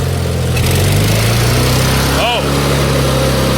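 A Miller welder's engine running loud and close, a steady droning hum that settles lower as it drops toward low idle, with a brief spoken exclamation over it.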